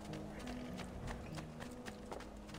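Rhythmic clip-clop of a horse's galloping hooves in Assassin's Creed II, steady and fairly close, with a faint tonal hum and some game-like mechanical ticks underneath.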